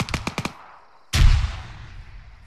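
Three quick clicks or taps come first, then a loud video-game gunshot booms close and decays through a lingering tail with no voices.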